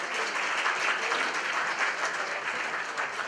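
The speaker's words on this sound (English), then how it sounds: "Please give a warm round of applause for Javid representing Azerbaijan." A crowd applauds a student presenter representing Azerbaijan at a presentation night in South Korea, with dense, steady clapping that holds at an even level throughout and no voices over it.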